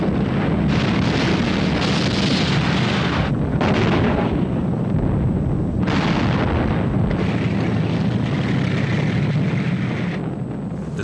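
Heavy gunfire and explosions from Soviet T-34 tanks firing at point-blank range into German lines during a World War II armoured battle, a continuous loud barrage of booms and blasts with dense rumbling throughout.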